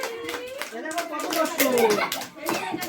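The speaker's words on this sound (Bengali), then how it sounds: "হাততালি দাও হাততালি দাও" Hands clap at an anniversary celebration, sharp close claps scattered across the moment while people talk and a voice calls out over them.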